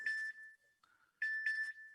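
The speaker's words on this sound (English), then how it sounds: "That's my phone ringing." A mobile phone ringtone chimes in short bright bursts: one opening pulse, a pause with a faint tone, then two quick pulses close together. It rings alone in a quiet room during an online meeting.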